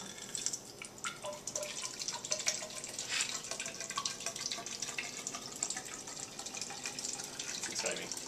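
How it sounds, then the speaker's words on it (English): Water splashes and trickles steadily into a graduated cylinder, with small drips and gurgles throughout, fairly close and continuous with no talking. "we're going to pour this into our graduated cylinder"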